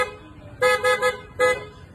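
A Yamaha Aerox NMAX scooter horn sounds in four short, loud, close toots, three quickly grouped and then one more after a brief pause, over a faint idle background hum.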